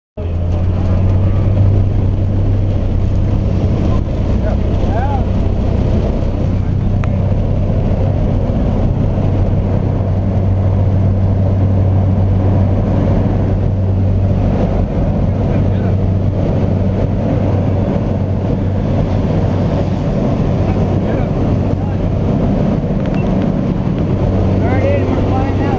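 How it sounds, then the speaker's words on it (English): A Cessna light aircraft engine powers up for takeoff, a loud, steady low drone with strong wind rush, sustained evenly from start to finish. "we add power and start to take off"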